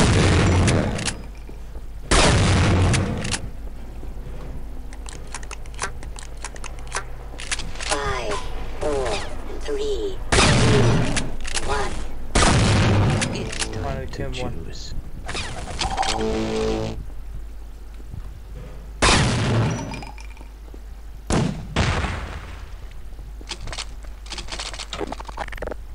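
Shotgun blasts in a first-person shooter game: several loud, widely spaced booming shots with ringing tails, with voices talking between them.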